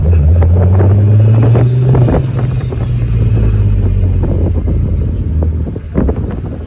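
A VR6 turbo-swapped Toyota MR2 Roadster cruises in third gear at just under 20 mph and about 1,500 RPM, giving a steady low engine drone with wind buffeting over it and no talking.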